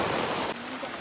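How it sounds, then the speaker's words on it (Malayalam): Heavy monsoon rain on a flooded village, a dense roaring downpour that fills the air up close and then thins slightly halfway through, with no voices. "സൂപ്പർ മഴ."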